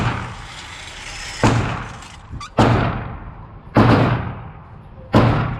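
Springfield Echelon 4.0 Compact pistol fired for its first shots: four sharp, loud reports spaced roughly a second apart, each with a fading echo, close to the shooter.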